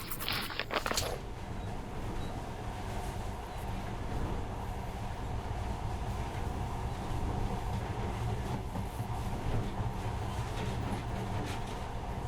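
Monorail train in Metro Last Light running steadily, a continuous low rumble and rolling hum with faint rattles throughout, constant in level and without talk.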